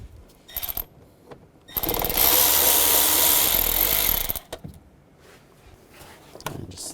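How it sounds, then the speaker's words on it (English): Power tool with a T30 socket driving out valve cover screws on a 2005-2010 Volkswagen Jetta, a loud steady whir lasting about two seconds between quieter mechanical clicks and handling noises. "Use a T30 socket and remove those screws."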